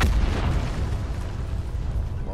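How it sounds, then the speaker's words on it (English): A Hellstorm missile strike in Call of Duty Black Ops 4 lands as a deep, muffled boom, with a low rumble that swells at the start and fades into a steady background roar. "Enemy hellstorm detected."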